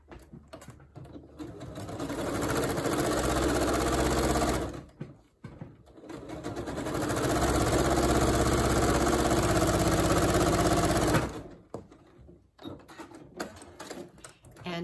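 A sewing machine stitching across quilt pieces runs in two long, steady bursts of rapid mechanical whirring, close and loud, separated by short pauses.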